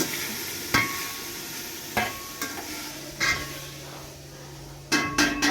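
Onions frying in a pot for a chicken dish, with a steady faint sizzle broken by several sharp clinks of a utensil stirring against the pot.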